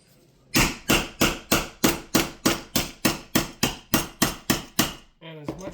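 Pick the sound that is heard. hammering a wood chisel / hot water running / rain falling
hammering a wood chisel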